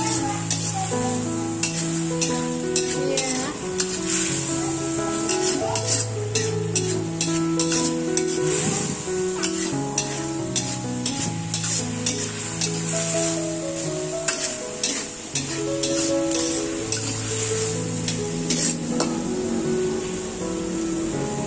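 Bean sprouts stir-fried in a pan for tumis toge sizzle steadily throughout, with frequent scraping and clicking of a utensil against the pan in an irregular rhythm, close and fairly loud under a tonal musical background.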